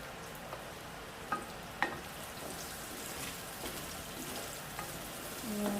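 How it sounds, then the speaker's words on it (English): Mushrooms for salmon salpicao sauté in a pan with a soft, even sizzle and a few light taps from the utensil. "but I wanted my salpicao to have mushrooms, so I'm going to saute them"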